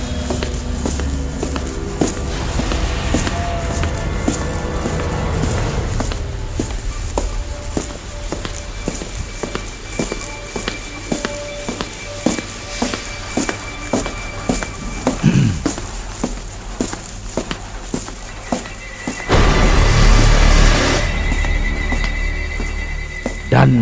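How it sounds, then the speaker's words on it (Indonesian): Footsteps walking toward a bedroom as a sound effect in a spoken horror story, a steady run of soft, evenly spaced steps, close and moderately loud, with a louder burst of noise near the end and no talking. "suara langkah kaki itu mulai terdengar melangkah"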